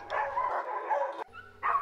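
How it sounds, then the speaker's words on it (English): Dogs in a fenced dog yard give a few barks and yips in quick succession. The barking is close and fairly clear, with a short gap between the bursts. "The dog bark like crazy, of course"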